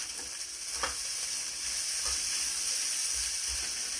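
Chicken fried rice with green onions frying in a hot pan gives a steady, bright sizzle and hiss, with a few soft stirring knocks from a utensil scattered through it, close and continuous.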